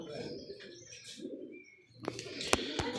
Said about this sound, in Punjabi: ਬਹੁਤ ਬਹੁਤ ਅੱਛੇ ਕਬੂਤਰ ਨੇ।